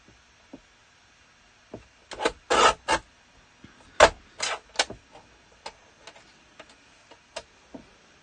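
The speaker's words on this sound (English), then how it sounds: "just cutting strips" Paper being cut into strips for a handmade sliding puzzle card, a series of crisp separate snips and slicing strokes, a few louder ones close together then sparser, clear and close with no talk.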